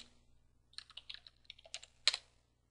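Keystrokes on a computer keyboard tap out in short irregular bursts, close and clear, ending with one sharper key press, with no voices over them.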